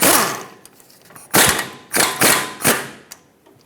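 Several sharp metallic clacks and rattling bursts from a socket wrench loosening the adjustment sleeve bolts on a Ford E-350 tie rod, close and loud with short pauses between strokes.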